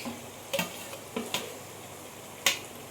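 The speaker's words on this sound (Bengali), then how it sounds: "দিয়ে আমি মশলার সাথে ভালো করে চিকেনটা কষিয়ে নেব।" Chicken pieces being fried in a spiced tomato masala for chicken curry, a faint soft sizzle broken by a few sharp clicks and scrapes of a spoon against the pan.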